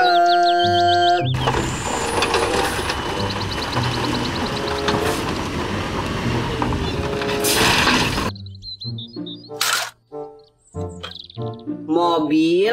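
A toy dump truck gives off a loud, continuous whirring, clicking mechanical rattle for about seven seconds, then stops and gives way to short bursts of talk.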